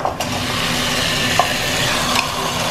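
Mutton frying in a pan with browned onions for biryani, a steady close sizzle with occasional stirring scrapes and no voices.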